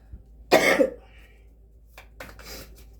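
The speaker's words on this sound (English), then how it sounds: "I'm tempted to stop this video, clear my throat" A single harsh throat-clearing burst close to the microphone, followed by a couple of softer rasping clears after a pause.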